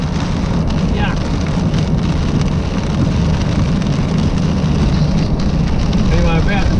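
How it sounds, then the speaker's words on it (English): Sleet-like rain splattering on the windshield of a car driving about 15 km outside Warwick, Australia, a dense hiss under constant rumbling road and wind noise. "This rain, when it hits the windshield, it just splatters."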